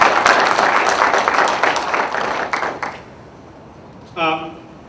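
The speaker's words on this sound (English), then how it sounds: "I'd like to start by inviting you all to join me in a round of applause for Gerald Marcus" A crowd applauds loudly for about three seconds, the clapping thinning and fading out before a brief voice is heard.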